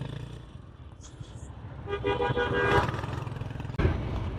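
Dense traffic jam on a Dhaka road, with motorcycle and car engines idling and revving close by, short horn toots, and a sharp knock near the end.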